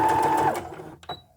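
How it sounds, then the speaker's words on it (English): A sewing machine back stitching fabric for a doll beanbag chair, a steady buzzing whir for about half a second that cuts off, followed by a couple of faint clicks. "I'm going to back stitch again"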